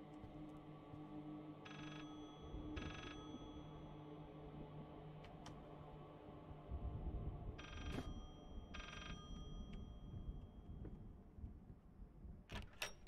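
A telephone rings in two separated bursts, each a pair of bright ring pulses, over a low droning ambience in the horror game Layers of Fear. No voices.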